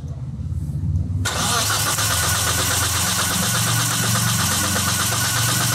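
A car engine with a standalone ECU is cranked by its starter and catches almost at once, settling into a loud, steady running drone that is close by and continues to the end.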